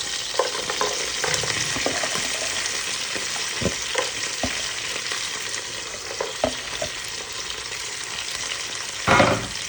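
Finely chopped ginger and garlic sizzle in hot oil for a pickle, with a steady frying hiss broken by sharp scrapes and clacks of a spoon stirring the pan, louder near the end.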